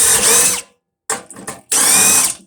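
A power drill backs screws out of a furnace being scrapped, in three loud close whirring bursts, the middle one broken into short stuttering pulses.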